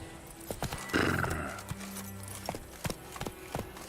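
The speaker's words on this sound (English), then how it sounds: "Someone's horses here." A horse in The Witcher 3 whinnies loudly near the start, with scattered hoof clops and shuffling around it.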